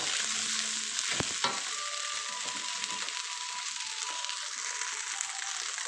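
Minced pork with holy basil and glass noodles stir-fried in a hot pan, a loud steady sizzle with a couple of sharp utensil clacks near the start, close up and without speech.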